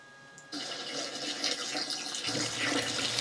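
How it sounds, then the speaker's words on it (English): Water pours onto newly planted potatoes in an allotment bed, a soft splashing and trickling stream that starts abruptly and continues steadily, close by, without talk. "Give them a watering."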